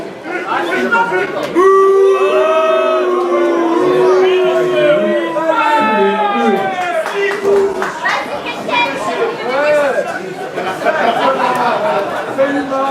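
A crowd at a wrestling show booing wrestler Maxime Deloret, a dense, loud mass of voices with drawn-out jeering calls and chatter filling the whole stretch.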